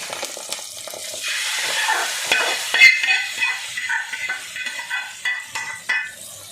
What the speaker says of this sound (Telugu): చట్నీ అయితే రెడీ అయింది కదా, ఇందులోకి అయితే పోపు వేస్తాం.